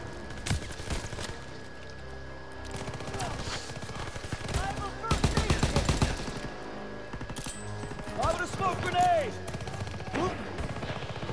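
Rapid bursts of gunfire and automatic weapon fire crackle through a Call of Duty WWII firefight, loud and dense in clusters with pauses between, while a player talks over parts of it.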